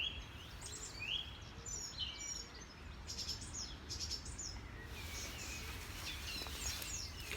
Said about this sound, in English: Can you hear the song thrush?